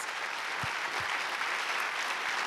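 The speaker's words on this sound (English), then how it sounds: "So let's give them a round of applause." Audience applause for sponsors at a live stage event, a steady dense roar of many hands clapping together, with a couple of low thumps near the start.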